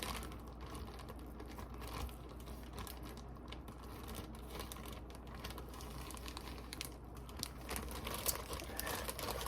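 Crinkling and crackling of a resealable plastic bag being opened, with rapid clicky rustles and small snaps, close and fairly quiet, continuing steadily without talk.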